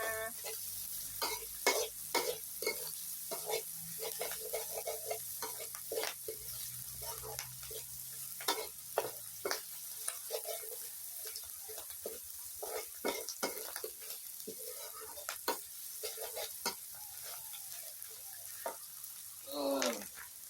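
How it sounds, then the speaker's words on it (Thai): Pork filling for sago dumplings being stir-fried in a pan, a soft sizzle punctuated by many sharp, irregular scrapes and clacks of the spatula against the pan, close and fairly quiet. "ผัดไส้สาคูเสร็จก่อนนะ"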